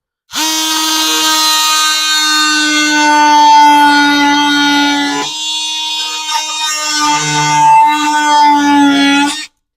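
An oscillating multi-tool running at high RPM with an EZARC blade, giving a loud, steady high-pitched whine rich in harmonics that dips in pitch briefly mid-cut and continues until it stops.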